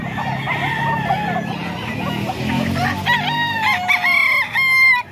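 A two-year-old stag gamecock crows repeatedly and close by, its cries rising and wavering over a background of other roosters and fowl clucking in a busy yard.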